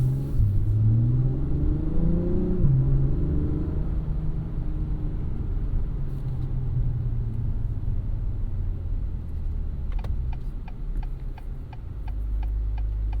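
A 2021 Acura TLX Type S with a 355 hp engine driving in Sport Plus mode, its engine droning low and steady with a rising rev sweep early on, then cruising with faint ticking in the cabin.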